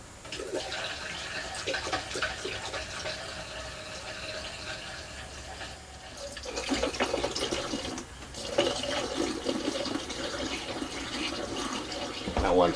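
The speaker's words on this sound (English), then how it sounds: "I'll put my water and tank deodorant in on top of that." Water and tank deodorant pour into an RV holding tank during cold-weather prep, a gurgling, splashing fill that surges and fades in waves, with someone talking intermittently over it.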